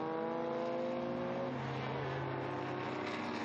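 A historic Porsche 904 race car runs at the Estoril Classics circuit, its engine a loud, steady drone that holds and shifts slightly in pitch throughout, with no other distinct sounds.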